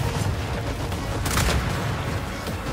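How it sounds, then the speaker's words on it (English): Frag grenade bursting in Gears 5 Horde mode: one loud, broad blast roughly midway through, set against steady dense game noise and rumble. "Incoming frag!"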